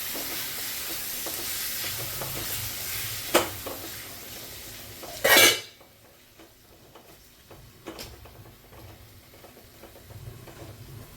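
Eggplant sautéing with tomatoes and coriander in a pan, a steady close sizzle with stirring scrapes, a sharp clatter midway and a few faint ticks after.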